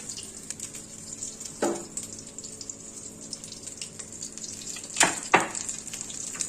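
Amudi fish pakoras coated in a semolina batter fry in oil with a soft, low crackle, broken by a few sharper spits and bursts, one early and two close together near the end.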